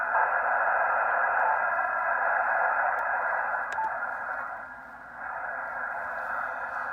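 A Yaesu FT-891 ham radio receives a single-sideband signal with digital noise reduction on, giving a steady band of hissy, narrow-filtered receiver audio with a brief dip in level near the end and no talk.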